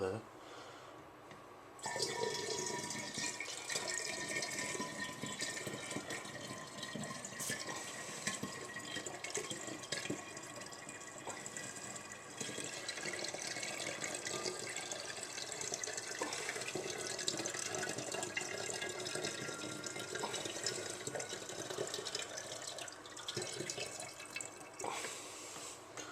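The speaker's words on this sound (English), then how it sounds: "Add another load of water." Bottled water pours and splashes continuously into homemade Ribena wine for a long stretch, a steady trickling wash of sound at close range.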